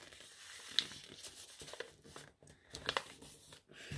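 Paper being folded into a paper plane, with soft crinkling and a few sharp creasing crackles close by, spread unevenly across several seconds.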